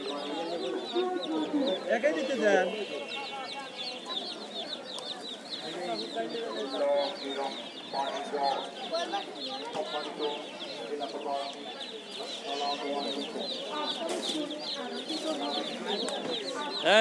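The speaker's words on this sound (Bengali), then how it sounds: "এটা হলো ব্রয়লার মুরগির বাচ্চা" Broiler and Sonali chicken chicks chirp continuously in a dense, high-pitched chorus at a busy livestock market, with scattered clucks and background voices mixed in throughout.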